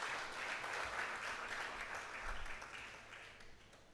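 A university audience at Makerere applauds an honoured speaker during a lecture on Nyerere's constitutional legacy, steady broad clapping from a crowd, fairly faint and distant, tapering off near the end.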